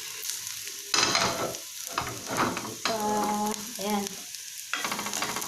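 Marinated chicken added to a pan with browned sugar sizzles loudly while a utensil stirs it in scraping bursts; a brief word is spoken.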